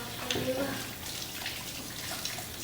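Water runs and splashes as hands are washed with dish soap at a sink, the gentle flow close by with a faint voice in the background.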